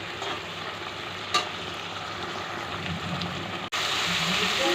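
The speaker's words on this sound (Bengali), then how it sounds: "এর মধ্যে দেব পরিমাণ মতো নুন দিয়ে মশলাটাকে ভালো করে ভেজে নেব।" Spice paste with salt fries for prawn malai curry in a steady, close sizzle with occasional stirring scrapes, briefly cutting out and then returning louder.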